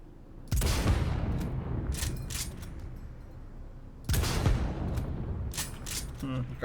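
A cannon fires in the video game Cyberpunk 2077 with two heavy blasts a few seconds apart. Each blast is a loud, close, booming crack with a rattling tail, and someone talks between the shots.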